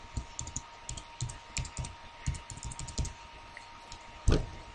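Quick, uneven clicks of fingers typing on a computer keyboard, close and clear, in short bursts with small pauses and one louder key strike near the end; nobody speaks.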